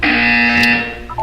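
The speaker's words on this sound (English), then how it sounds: "When you hear the buzzer, look down at the floor." A loud, flat electronic buzzer sounds in the video game Portal 2, holding a steady tone for under a second before tailing off into softer synthetic blips.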